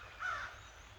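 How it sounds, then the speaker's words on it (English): A single crow caw, short and moderately distant, rising briefly over quiet outdoor background. "I just love all these crows assisting."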